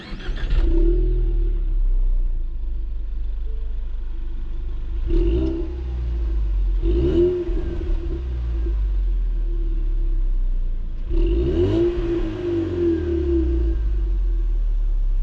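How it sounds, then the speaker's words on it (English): Exhaust note of a 2018 Ford Mustang EcoBoost four-cylinder, heard up close as a deep, muted rumble rising in several revving swells separated by a steady idle. "This is what that Mustang exhaust note sounds like."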